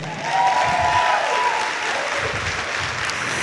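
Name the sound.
audience applause for a speaker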